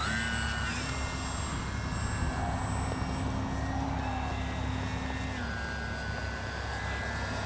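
An E-flite P-51D warbird RC model plane, a simple 4-channel electric aircraft on its maiden flight, gives a steady whining drone that holds level and shifts pitch slightly as it passes, continuous throughout.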